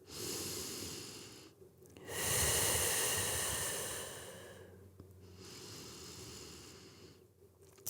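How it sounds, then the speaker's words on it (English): Slow, deep breaths drawn in and pushed out through the nose and mouth during a psoas release stretch, close and airy, with two long exhalations separated by brief pauses. "Big, deep breaths."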